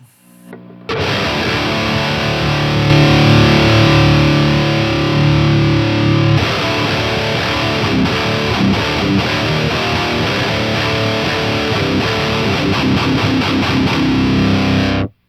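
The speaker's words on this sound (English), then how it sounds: "So let's drive the input a little harder and see what that sounds like." Heavily distorted electric guitar through an AudioScape V108 JFET-coupled discrete preamp with input driven harder, playing continuously and loudly, thick and saturated, with chugging rhythmic strums growing busier in the second half.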